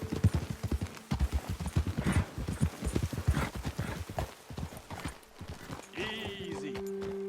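Horses' hooves clip-clop in a quick, steady rhythm close by in the video game Red Dead Redemption, then one horse lets out a whinny near the end.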